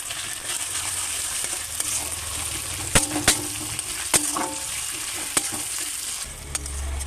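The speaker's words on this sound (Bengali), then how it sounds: "পেঁয়াজগুলো ভাজা হচ্ছে" Onions sprinkled with a little salt fry in a pan with a continuous close sizzle, broken by several sharp clinks and taps of a stirring utensil.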